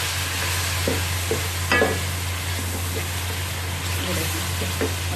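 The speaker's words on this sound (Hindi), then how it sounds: "थोड़ा सा पानी डालूंगी इसमें" Onions browned with meat for Afghani pulao sizzle steadily in a pot as a little water goes in and the mix is stirred, with soft scraping clicks over a constant frying hiss.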